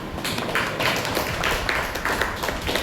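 Applause from an audience at an academic lecture on Nyaya epistemology, a dense steady patter of many hands clapping at moderate distance, with no voices over it.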